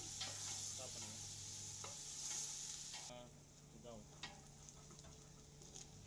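Ginger garlic paste sautéing with onions in a pan gives a faint, steady sizzle with occasional soft stirring scrapes, heard up close at low volume.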